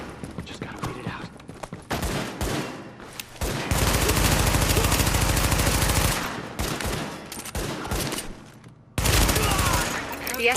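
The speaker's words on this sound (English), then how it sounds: "The escort party's taking heavy fire from the roof." Heavy automatic gunfire in The Division shooter, with a rooftop gunner pinning down an escort party: long dense bursts of loud rapid shots, broken by brief lulls and single cracks, with voices speaking now and then.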